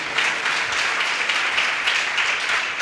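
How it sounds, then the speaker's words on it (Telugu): Congregation in a church clapping hands together, a steady dense wash of applause from many people that holds evenly for a few seconds, moderately loud. "ఇప్పుడు కొట్టుకోండి చప్పట్లు"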